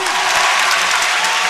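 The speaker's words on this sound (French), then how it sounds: "On applaudit!" An audience at a debate final claps steadily, a dense, even burst of applause that fills the whole moment with no voices on top.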